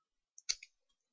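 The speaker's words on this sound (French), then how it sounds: "Soit je fais un clic droit et je fais copier." A computer mouse right-click, a single small plastic click heard close and clean against near silence.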